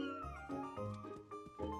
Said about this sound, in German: Und da ist sogar die Katze hier.